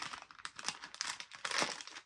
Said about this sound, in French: dès qu'il entend le bruit de papier comme ça